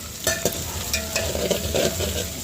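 Ginger garlic paste fries hard in a hot pan, a loud continuous sizzle broken by quick bursts of stirring and scraping.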